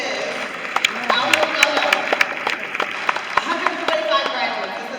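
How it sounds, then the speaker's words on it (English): A crowd at a high school graduation ceremony breaks into sustained applause, dense clapping that carries through the whole stretch while voices are heard under it. "Give yourselves a round of applause."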